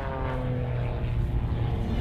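Propeller drone of a North American OV-10 Bronco, a Vietnam War–era military aircraft, at an air show: a steady, loud low engine hum with tonal bands, continuous throughout without speech.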